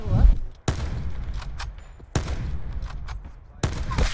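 Three sharp bursts of gunfire in a video game, shots punched through a wall, each a loud crack with a rumbling tail, spaced roughly 1.5 seconds apart.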